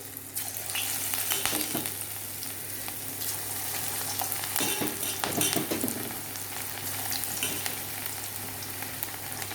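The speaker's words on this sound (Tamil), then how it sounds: "ஒன்று ஒன்றா சும்மா அப்படியே உதுத்துட்டு பக்கோடா போடுற மாதிரி போட்டு பார்க்கலாம்" Drumstick leaf batter dropped piece by piece into hot oil, pakoda style, giving a dense, continuous bubbling sizzle with scattered crackles and faint clinks, steady and close throughout with no voices.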